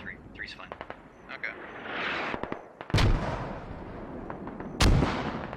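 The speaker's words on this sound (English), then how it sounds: "Mortars all around." Mortar rounds slam down in the Squad battlefield, two heavy booming impacts standing out among scattered sharp gunshots and crackling fire, loud and close.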